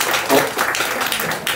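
Church congregation applauding after a baptism during a Sunday morning service, a brief burst of scattered clapping from a crowd filling the room, with a voice speaking over it.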